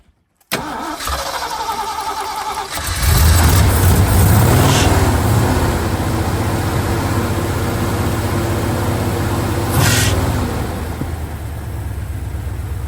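A Jeep CJ5 with a freshly primed fuel filter cranks with a rapid, rhythmic starter churn for a couple of seconds, then fires and settles into a loud, steady, close idle with a brief surge near the end.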